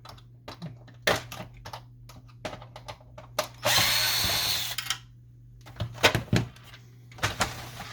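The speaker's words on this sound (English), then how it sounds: "Let's remove this front plastic here." Front plastic panel being removed from an HP Officejet 6500 printer: a string of sharp plastic clicks and snaps, then a loud sustained scraping grind lasting about a second, followed by more close clicks and knocks.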